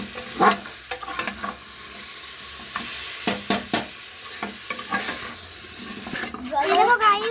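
A chicken stew with plenty of vegetables is stirred in a pan, a utensil scraping and clinking in irregular strokes over a steady sizzle, with a brief burst of running water near the end.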